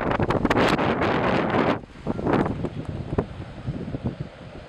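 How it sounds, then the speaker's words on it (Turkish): Strong storm wind buffets loudly in heavy gusts during heavy rain in Balıkesir, Turkey, roaring against the microphone, then eases briefly before rushing back in uneven bursts. "Balıkesir hafta sonu şiddetli yağışın ve kuvvetli rüzgarın etkisi altında kaldı."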